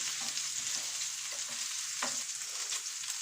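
Onions fry gently in oil for a saffron paella-style rice, a close, steady crackling sizzle with soft stirring scrapes and no voices.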